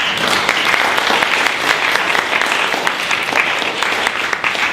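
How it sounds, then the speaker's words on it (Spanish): Dense, steady applause from an audience welcoming a speaker to a talk, loud and continuous throughout with no voices over it. "unas palmas de bienvenida"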